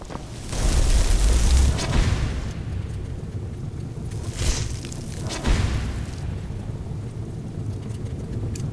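The Lightning Cloak spell crackles in modded Skyrim Special Edition, a loud, steady rumbling roar with bursts of booming crackle that swell and fade over several seconds.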